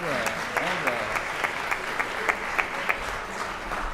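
A round of applause in a legislative chamber for a physician being introduced, steady clapping from the room with a few sharper claps standing out and faint voices underneath.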